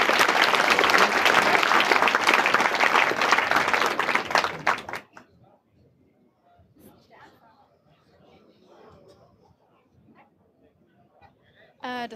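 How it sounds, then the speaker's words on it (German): Audience applause welcoming a speaker at a German science slam, a dense burst of clapping for about five seconds that stops abruptly, followed by faint stage sounds and quiet talk. "Heißt mit mir herzlich willkommen mit einem großartigen Applaus"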